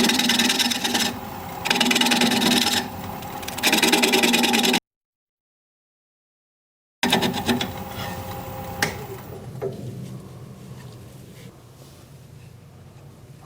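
Sassafras wood turning on a lathe gives a loud, close scraping and rasping hum with pulsing bursts, cut off by a gap of silence, then resuming and fading to a softer, thinner scrape.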